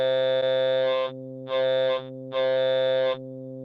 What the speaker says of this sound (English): sweeping the MOSFET filter here, you can hear that cut off with distortion that it does